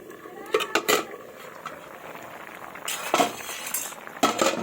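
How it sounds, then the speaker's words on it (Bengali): A metal lid lifted off a simmering cooking pot of garlic-leaf and onion curry, with several close clinks and clatters of metal against metal over a faint bubbling background, no talking. "এবার ঢাকাটা তুলে নেব।"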